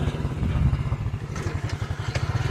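A parked motorcycle engine idles steadily at close range on a dirt area, giving a low, even throb with a faint clattering rhythm throughout.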